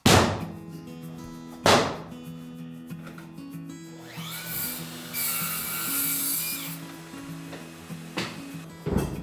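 Hinoki cypress floorboards are cut with a power saw, a sharp whining cut rising in pitch and running several seconds, framed by knocks and handling of the boards against a steady low hum.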